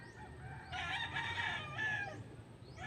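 Chickens and a rooster in a mountain village in Danao City, the rooster crowing one drawn-out call close by, with fowl clucking faintly around it and no talk.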